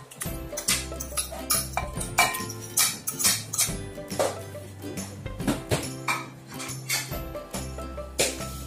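Mashed grilled eggplant is scraped and transferred into a bowl with a utensil, producing repeated close clinks and knocks of metal on the dish in an irregular rhythm.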